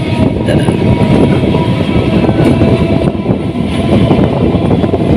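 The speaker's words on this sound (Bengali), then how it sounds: "অ্যাভারেজের থেকে ভালো স্পিডে ছুটছে আমাদের ট্রেন" A Haldia Fast EMU local train runs at good speed between Howrah and Tamluk, with a loud, continuous rumble of wheels and carriage noise and faint rhythmic clatter throughout.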